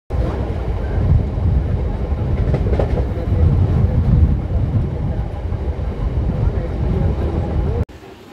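A MEMU express train runs steadily along the tracks between Kakinada and Vijayawada, a continuous loud rumble with low rolling wheel noise and faint rhythmic clatter, cutting off abruptly near the end.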